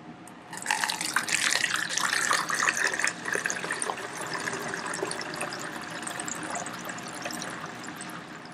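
Water mixed with baking soda and isopropyl alcohol is poured through a small funnel into a container, a close splashing gush that starts suddenly, peaks early, then settles into a steadier trickling flow.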